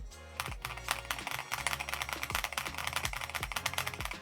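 Rapid clacky keystrokes on a mechanical keyboard, heard up close in a brisk, steady stream with no one speaking.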